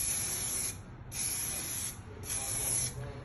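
AC Pro-Tech cleaner sprayed onto copper coil rows in three steady bursts, each a loud, close hiss lasting about a second with short pauses between.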